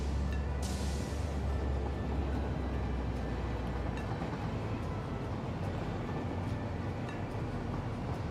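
A train in the video game Satisfactory moves with a steady low rumble and a wash of rolling noise, constant and moderately loud, with no one speaking.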